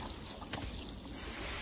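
Water pours onto freshly planted garlic in an organic garden bed, a continuous splashing trickle that stays fairly loud and steady throughout.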